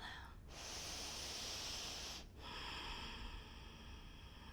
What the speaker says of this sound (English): Take a nice big deep breath.